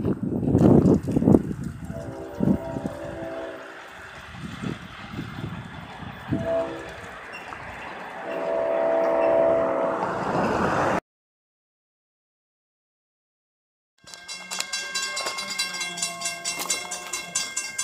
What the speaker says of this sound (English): I am here with a separate train, a stone train, and locomotive leading is 520